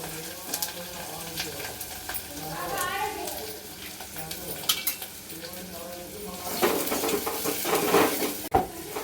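Garlic paste, green chilies and onion fry in a pan with a continuous sizzle, stirring and metal utensil clinks. A voice is present at times, and the frying grows louder toward the end.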